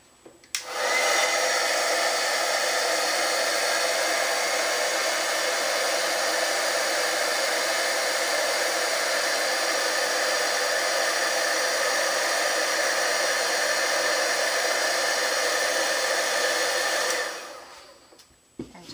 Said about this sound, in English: now with my heat tool I'm just going to be melting that powder